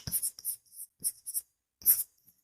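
A marker or chalk writing on a board during a math lecture makes a few short, close scratchy strokes separated by brief silences, with no voice over them.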